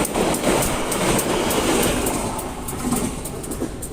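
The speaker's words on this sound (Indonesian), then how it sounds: "kereta api Sri Tanjung sudah melintas langsung stasiun Malasan" The Sri Tanjung passenger train running straight through Malasan station, a loud close rush of wheels with rhythmic clickety-clack over the rail joints and a steady rumble under it.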